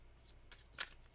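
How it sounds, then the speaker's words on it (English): Tarot cards being shuffled, a soft riffling close to the microphone with a sharper flutter near the end, quiet and brief. "let's give this a good shuffle for Cancer"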